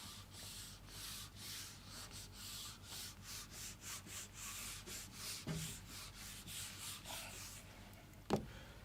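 Chalk gets rubbed off a classroom blackboard with a rapid rhythmic scrubbing that keeps going for several seconds, then ends with a sharp tap, with no talk.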